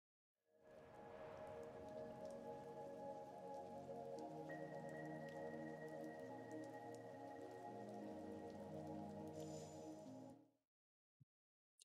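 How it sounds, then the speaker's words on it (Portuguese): Rain in the puzzle video game The Gardens Between, a steady soft patter of drops falling on surfaces for about ten seconds, then stopping abruptly. "Parece que a chuva tá passando."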